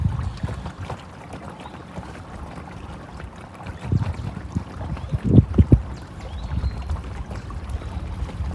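An electric boat pushes against tide and wind on the Norfolk Broads. Steady wind buffets and water swishes along the hull, with a few low thumps and gusts partway through.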